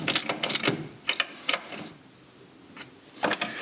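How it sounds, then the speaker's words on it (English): A hand ratchet clicks in quick bursts while bolts on a Classic Mini's steering and wheel hub are locked down, several rapid runs of metallic ticks separated by short pauses. "So let me lock down all these bolts now to the right torque"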